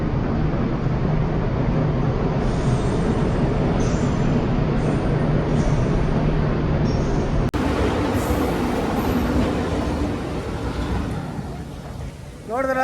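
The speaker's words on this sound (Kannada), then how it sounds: "ನೋಡಿದ್ರ ಯಾವ ಥರ ಹೋಗ್ತಾ ಟ್ರೈನ್ ಅಂತ." Near a tunnel, a passenger train rumbles past with a loud, continuous roar and clatter of rolling wagons, easing toward the end as it moves away.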